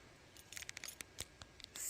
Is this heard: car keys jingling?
yes